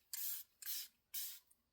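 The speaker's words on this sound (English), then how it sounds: "We're going to do the spray." Three quick hisses from a makeup setting spray bottle misted onto a face, each short burst separated by a brief pause, close and fairly soft in an otherwise quiet room.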